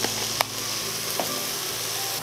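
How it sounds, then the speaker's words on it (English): Chopped onion with a pinch of salt cooking down in a pan, giving a steady close sizzle with a couple of brief stirring clicks. "we're going to allow this onion to cook down just a little bit"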